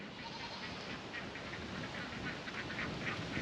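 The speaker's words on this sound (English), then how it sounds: "Ducks on a mission." Ducks on a sheep farm quack faintly and repeatedly in the distance under a steady wash of outdoor noise.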